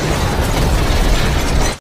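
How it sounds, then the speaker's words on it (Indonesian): A truck explodes in the action film Extraction: a loud, dense roar of blast and debris that fills the whole stretch and keeps churning steadily before cutting off abruptly at the end. "membiarkan truk itu meledak di sana"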